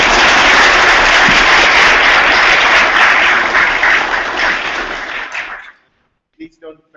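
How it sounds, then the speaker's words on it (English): Audience applause after a round of lightning talks, a loud, dense wash of clapping that holds steady for several seconds, then thins and cuts off, leaving near silence with a couple of faint sounds. "Let's give a hand of applause to all of you."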